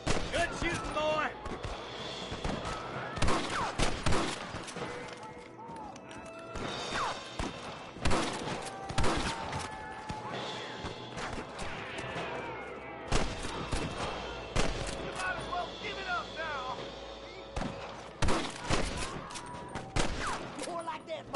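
Gunfire in a Red Dead Redemption shootout: rapid, sharp shots crack in bursts over about twenty seconds, some close and loud, others lighter, with voices heard now and then between volleys.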